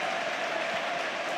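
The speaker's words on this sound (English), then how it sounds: "Receives a great ovation from the Camp Nou crowd." A large football stadium crowd at Camp Nou gives a sustained ovation during a Barcelona versus Valencia league match, the broad wash of applause and crowd noise steady and distant throughout.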